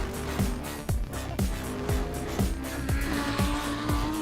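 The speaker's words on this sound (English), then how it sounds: "Nothing beats the sound of waking up to GT3 cars in the morning." GT3 race cars at the VIR racetrack in Virginia pass in a steady stream, loud engine notes sweeping down in pitch again and again as each car roars by at close range.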